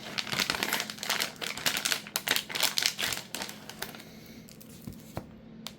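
Close crinkling and crackling of plastic wrapping as a tight pack of custom Dungeon Dice Monsters cards is opened, busy clustered rustles with a few sharp snaps, dying down near the end.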